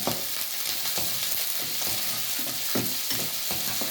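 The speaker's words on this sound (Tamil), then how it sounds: "இப்போ நாங்கள் என்ன செய்ய போகிறோம், இதோட மிளகாயை போடுறோம் வந்து." Cut chillies frying in hot oil in a pan, a steady loud sizzle broken by scraping stirs of a spoon at irregular moments, with no voices.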